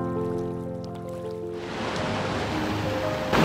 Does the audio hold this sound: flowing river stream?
yes